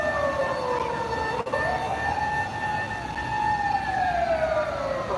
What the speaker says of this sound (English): the very loud ambulance rolling by right now